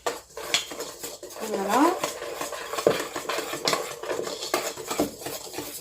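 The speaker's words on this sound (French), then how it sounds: "Donc on va tout bien mélanger comme ceci." Honeycomb cake batter is stirred in a bowl with a utensil, making close, repeated scraping and clinking against the sides, with a brief spoken word partway through.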